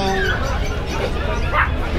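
Dogs bark briefly amid a busy outdoor gathering at a dog event, their barks mixed with background chatter and crowd noise.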